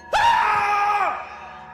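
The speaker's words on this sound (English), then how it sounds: "Suddenly, there was a scream." A single piercing scream rings out in an audio drama, near and loud, starting sharply, holding a shrill tone for about a second, then trailing off alone with no talk.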